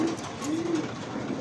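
A red Bombay pigeon cooing at close range, with a short coo followed by a longer, smooth low call over a rustly background.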